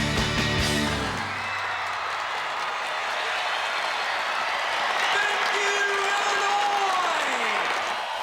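A large crowd at the Illinois State Fair applauding and cheering, a dense, sustained roar of clapping and shouts that rises just after a band's final chord dies away.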